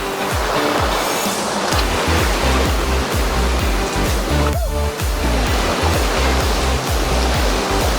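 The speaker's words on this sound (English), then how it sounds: "If you can hear behind us, there's soothing water, very nice" An underground river in Zion National Park rushes loudly and continuously, a dense close roar of flowing water that carries on without a break.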